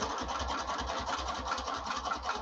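A sewing machine basts a seam at its longest stitch length with a close, steady mechanical whir and regular rapid thumps of the needle, continuous and alone with no talk.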